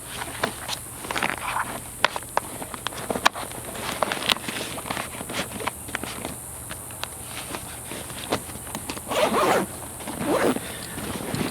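Zippers on range bag pouches are pulled open and shut, repeated close raspy zipping strokes in short bursts, with a brief longer run near the end.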